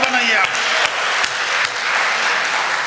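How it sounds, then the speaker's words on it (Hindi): An audience at a Hindi poetry recital breaks into steady, dense clapping that carries on evenly for about three seconds, with a brief voice at the very start. "भैया आप ताली वाली बजाइए, माहौल बनाइए आप"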